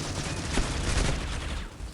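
Gunfire in the mobile shooter Critical Ops comes as a dense, continuous burst of rapid shots at moderate loudness, steady across the moment with no talk over it.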